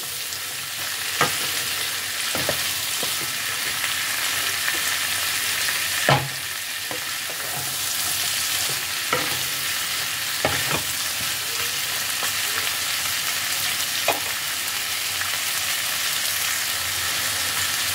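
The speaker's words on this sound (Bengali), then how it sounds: "একটু হাই ফ্লেমে দিয়ে ভেজিটেবলগুলোকে ফ্রাই করে নিতে হবে।" Vegetables sizzle loudly in a hot pan over high flame for a long stretch, with a constant frying hiss broken by occasional clacks of a spatula stirring.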